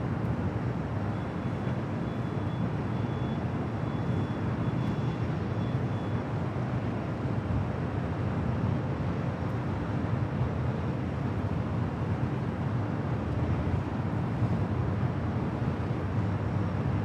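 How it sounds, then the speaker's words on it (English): A United Airlines Boeing 787-10 takes off at LAX, a steady distant jet roar with broadband rumble and wind buffeting at the microphone, unchanging throughout. "Taking off on the south side, that was United Airlines Flight 39 heading to Tokyo"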